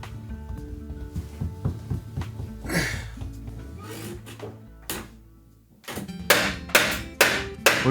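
Trim wood at the seam between a new sill and base frame is tacked with a finish nailer in a small room addition, giving a series of sharp, loud, close knocks with short pauses between them.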